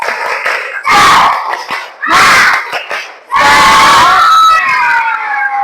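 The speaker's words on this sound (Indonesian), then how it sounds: "Kita kasih aplaus untuk kita semua" A class of third-grade children claps and cheers in loud bursts, three swells of crowd noise with short pauses between them, close and energetic.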